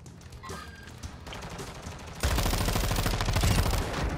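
Sustained gunfire in the Call of Duty Warzone battle royale game: scattered shots at first, then a loud, continuous burst of rapid fire, close and intense.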